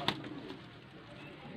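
A racing pigeon gives a soft, brief coo, close by but faint, with quiet background ambience and no talking.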